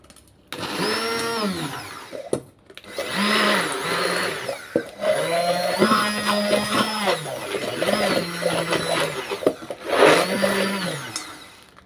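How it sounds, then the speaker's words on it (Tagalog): A hand blender whirs in repeated bursts, its pitch dropping and rising as it crushes Maggi bouillon cubes, with brief pauses between runs. "hand blender naman po para madurog yung Maggi cubes"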